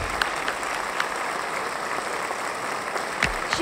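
Studio audience on a Nepali televised dance competition giving loud, sustained applause for the dancer Shivani, a continuous wash of clapping with a few sharper claps standing out.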